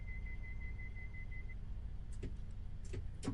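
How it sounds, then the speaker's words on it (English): Train doors on a Class 158 diesel unit in Train Sim World 5 close over a steady low engine rumble, with a sustained warning tone that stops before a few brief clunks and thuds of the doors shutting. "Shut them doors up."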